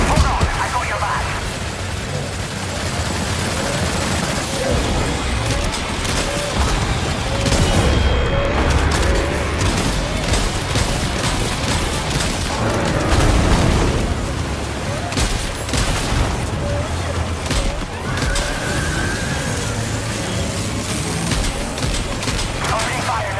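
Heavy sustained gunfire in Death Stranding 2 rattles loudly throughout, dense bursts mixed with booms and pops, while a voice speaks over the combat now and then.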